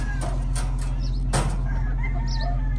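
Golden Monkey and Roundhead game hens, kept as breeding stock, give soft clucks and brief wing flaps close by over a steady low background hum.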